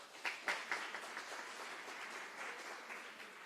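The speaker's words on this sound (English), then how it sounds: "Please give them a round of applause." Applause from an annual general meeting audience at a credit union, honoring retiring volunteers: a few distinct claps open, then steady, fairly faint clapping continues throughout.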